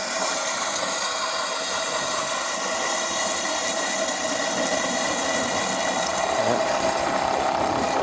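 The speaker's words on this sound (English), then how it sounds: "My pump is pumping." A steady mechanical whir of a boat's fresh water pump pushing antifreeze runs continuously at an even level, with faint rattling underneath and no pauses.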